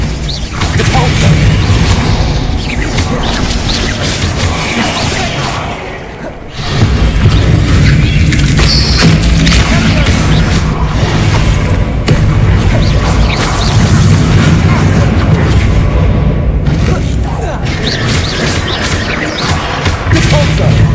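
Repeated Repulso spell blasts in the Hogwarts Legacy video game, a dense run of booming, crashing impacts over a steady low rumble, loud and close, with a brief dip around the middle before the clatter resumes.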